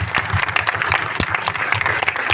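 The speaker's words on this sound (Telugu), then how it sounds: "let's clap for them for like 15 seconds" An audience applauds together in dense, continuous clapping that fills the whole moment at close, steady loudness.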